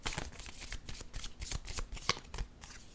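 A deck of cards is shuffled for a card reading, a series of quick, close riffling bursts and soft flaps in uneven rhythm.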